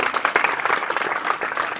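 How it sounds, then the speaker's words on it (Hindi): Continuous applause from an audience at a teacher's retirement programme for Bhali Ram, dense and steady clapping throughout with no pause. "इसके लिए भालीराम जी के लिए एक बार पुनः तालियां।"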